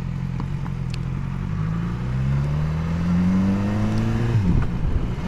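A vehicle on the road draws near with a rising engine whine that climbs steadily in pitch, peaks loudly close by and drops sharply as it goes past, over a steady background rumble.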